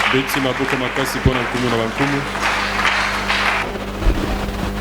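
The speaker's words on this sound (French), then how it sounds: "Nous acclamons très fort pour le roi des rois." A church congregation claps and cheers during a worship service. The applause is loud and close and mixes with tonal sounds, probably music, while voices carry over it.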